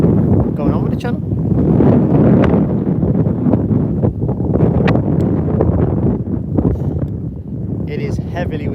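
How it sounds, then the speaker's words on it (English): Strong gusty wind at Birmingham airport buffeting the microphone with a heavy low rumble and rustling throughout, loud and continuous. "It is heavily windy here today."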